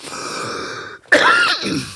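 A single throat clearing followed by a short cough, close and fairly loud, after a moment of steady background hum.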